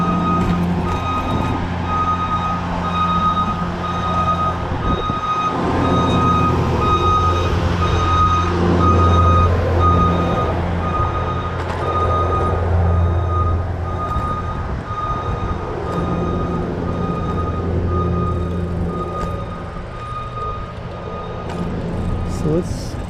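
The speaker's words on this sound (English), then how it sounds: "That man lift is headed our way." Reversing beeps from a man lift moving along a city street repeat in a steady rhythm at moderate distance, over traffic and street rumble, with people talking nearby.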